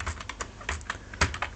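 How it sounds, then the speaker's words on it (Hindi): A search query is typed on a computer keyboard, a quick irregular run of close, crisp key clicks with one firmer tap near the end, with no voice over it. "उसके बाद यहाँ पर आपको टाइप करना है"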